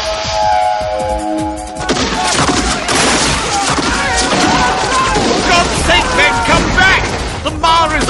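Musket fire crackles as a volley in a dramatized New Zealand Wars battle, loud bursts and crashes mixed with shouting voices throughout.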